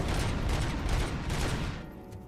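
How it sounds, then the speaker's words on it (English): Dense gunfire from RoboCop: Rogue City, a rapid burst of heavy overlapping shots and impacts that fades out after about two seconds. "I want whatever they're shooting me with."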